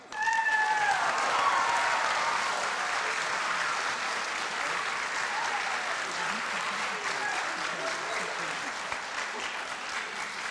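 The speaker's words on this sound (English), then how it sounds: "Let's give one last round of applause to all of our homecoming corps" Applause from a high school coronation crowd for the homecoming court, a long, steady wash of clapping that starts loud and eases off slightly, with a few voices rising briefly early on.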